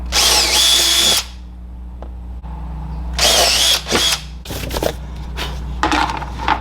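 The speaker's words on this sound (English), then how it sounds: "so we're going to go ahead and drill them out" A power drill whirs in several loud bursts, pausing between them, as it bores holes through a plastic 5-gallon bucket, with clattering handling noises in the gaps.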